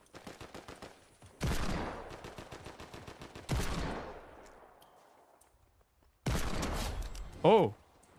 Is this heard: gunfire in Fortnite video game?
yes